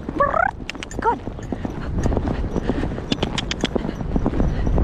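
A young horse's hooves clip-clop in a quick, steady rhythm close by on Perranporth Beach, Cornwall, with a short whinny-like call near the start.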